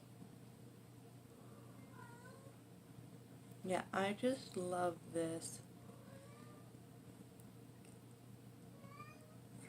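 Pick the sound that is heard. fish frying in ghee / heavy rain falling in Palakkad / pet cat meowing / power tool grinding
pet cat meowing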